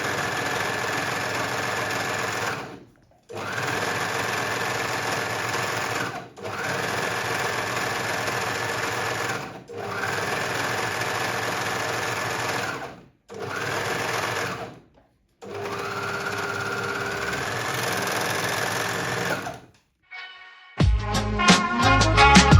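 A sewing machine stitches in long, steady mechanical runs separated by short pauses, ending with a brief burst of music.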